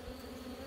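Honeybees at an opened hive in the dim evening, a steady close insect hum with no talking over it.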